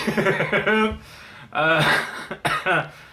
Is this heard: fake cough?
yes